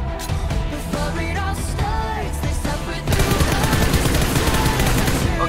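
Rapid automatic gunfire in a battle royale video game, dense bursts of shots running throughout, growing louder and more continuous in the second half, with no talk.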